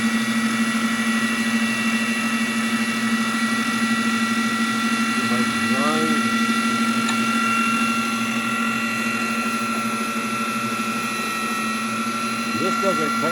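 A wet saw blade grinds through obsidian rock under a constant water spray, a steady droning whine with a strong low hum running unbroken, loud and close, with shifting rasping tones as the stone is pushed through.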